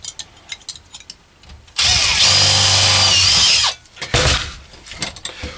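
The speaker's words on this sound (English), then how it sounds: "we're working with a drill that doesn't have much charge" A cordless power drill with a low battery whirs in one sustained burst of about two seconds, loud and close, with quieter clattering and handling noises before and after.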